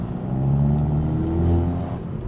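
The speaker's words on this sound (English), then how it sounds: "You can hear a little bit of an exhaust note." A VW Golf 7.5 GTI TCR with Stage 1.5 tuning, 370 HP and a shorter exhaust, running in comfort mode, gives a steady, subdued low exhaust drone and engine hum with a slight swell, heard from inside the car.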